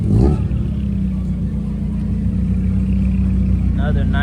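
A supercharged kei car pulls away nearby with a rumbling engine and a continuous whine that rises toward the end, while people talk over it.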